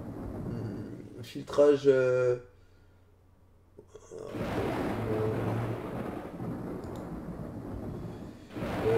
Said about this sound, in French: En plus il y a l'orage, ça tremble tous les côtés